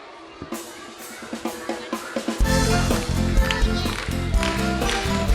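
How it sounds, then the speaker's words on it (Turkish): Parents clap in steady rhythm along with a cheerful song at a kindergarten graduation ceremony, sharp claps building first and then sitting under loud music and singing. "Tüm velilerimiz de alkışlarla, tempoyla bizlere iştirak ediyorlar."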